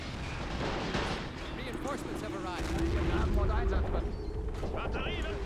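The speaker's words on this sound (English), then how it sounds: "We got our mortars, or our artillery firing off" Artillery and mortars fire in Men of War: Assault Squad 2, heavy booms and crackling blasts rolling under steady battle noise, with someone talking over the continuous combat din.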